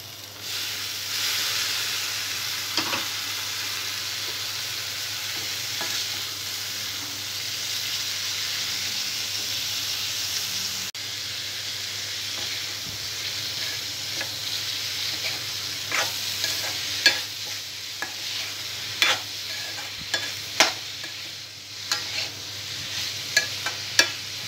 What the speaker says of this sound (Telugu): ముందుగా ఉడికించి పెట్టుకున్న కాకరకాయ ముక్కలు వేసుకోవాలి.